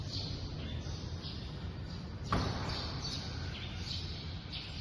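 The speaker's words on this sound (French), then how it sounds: "Les oiseaux y habitent apparemment." Birds chirp inside a church in Panglao, Bohol, a series of faint, high, short tweets repeating irregularly over a low ambient rumble, with one brief sharp click midway.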